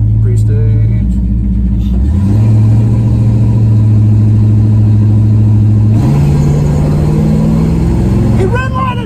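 A tired, worn-out Mopar 318 V8 with no oil pressure revs loudly and close at a drag race, its pitch climbing and holding in steady stages before dropping away, with voices faintly underneath.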